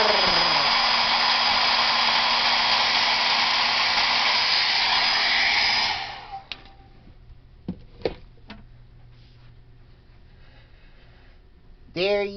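A handheld blow dryer roars loudly and steadily as it dries a right foot, then switches off around the midpoint, leaving faint clicks and light handling sounds before a brief burst near the end.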